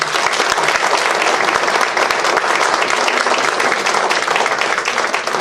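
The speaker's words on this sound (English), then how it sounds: "Give our students a round of applause." A dense round of applause for students at a January 2018 Citizen of the Month luncheon, with many hands clapping together into a loud, continuous wash of sound that holds steady throughout.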